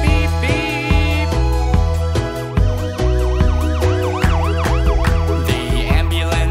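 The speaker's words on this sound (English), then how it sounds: "The ambulance siren goes wee, woo, wee" A loud wailing ambulance siren sweeps up and down repeatedly, backed by the bouncy musical accompaniment of a children's nursery-rhyme song.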